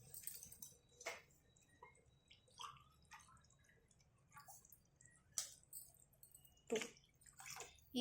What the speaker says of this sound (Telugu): వాటర్ పోతాం 1.